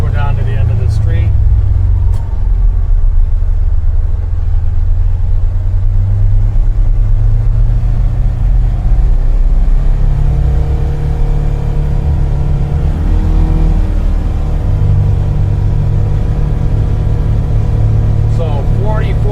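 The engine of a Polaris Ranger XD 1500 Northstar UTV drones steadily around 4,500 RPM while driving at about 20 mph down a street, a loud, close, continuous rumble under a voice.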